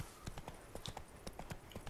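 Horse hooves clip-clop at a quick, even trot in The Witcher 3: Blood and Wine, set in Toussaint, a faint but clear rhythmic patter of about a dozen hoof strikes with no talking.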